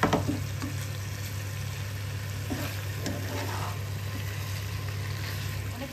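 Meat is frying with spices in a hot oiled pan and being stirred. A steady loud sizzle continues throughout, with occasional soft scrapes from stirring, a low constant hum underneath, and no talking.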